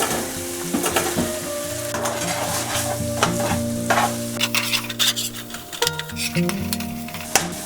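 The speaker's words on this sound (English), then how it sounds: "After 2 minutes, I'm going to add onion." Onion with green chili and garlic frying for dhaba-style bhuna mutton, an even close sizzle with repeated stirring scrapes and occasional knocks of a spoon against the pan, no one speaking.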